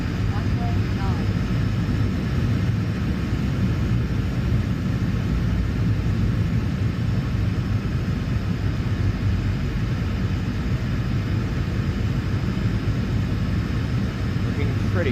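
A Sun Country Boeing 737-800 in a PMDG flight simulator is on approach to runway 9 and gives off a constant, even engine rumble with broadband air noise. Someone talks quietly over it.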